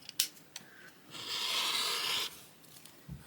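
Fabric is trimmed for a quilt, a few faint taps followed by a close, sustained rasping cut lasting about a second, then quiet handling noises.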